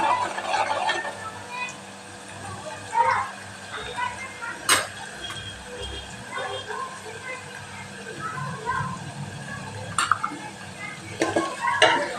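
Garlic and onion sautéing in a pan, with scraping spatula strokes and metallic clanks against the pan over a low sizzle, close by, while a voice talks intermittently.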